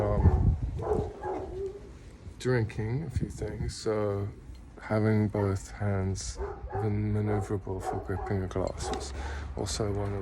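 A neighbor's dog barks faintly in the background, nearly buried beneath someone talking continuously close by.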